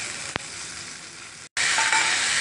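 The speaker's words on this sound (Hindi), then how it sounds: "अब इसमें हम जिंजर गार्लिक पेस्ट और चिली डाल देंगे, अच्छे से सौते कर लेंगे।" Ginger garlic paste and chili are sautéed with onions in a pan, producing a dense, loud sizzle with a sharp knock near the start and a brief cut before the frying surges again.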